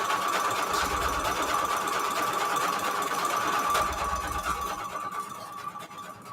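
A sewing machine whirs steadily, its motor humming at a constant pitch before winding down slightly near the end, with no talking.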